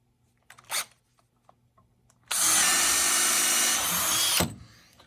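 A power drill bores into the wood of an Adirondack chair from a DIY kit, a close, loud continuous whine lasting about two seconds, preceded by a brief handling knock.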